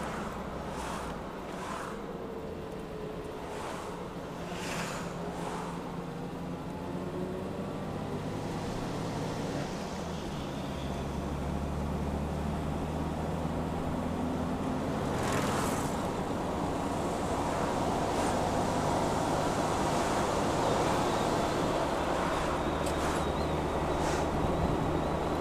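A Jeep drives smoothly along a road, its motor droning steadily with faint tire hum beneath, a continuous low rumble that builds slightly in loudness over the drive.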